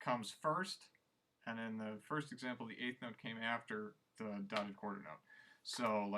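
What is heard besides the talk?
No everyday noise stands out behind the speech.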